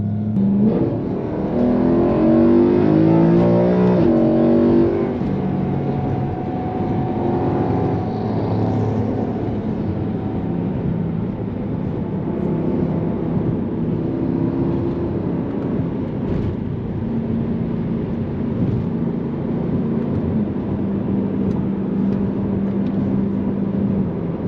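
A BMW E92 M3 on Michelin tires pulls hard from a stoplight, its engine revving up through a loud, rising surge, then settling into a steady, strong drone as it keeps accelerating.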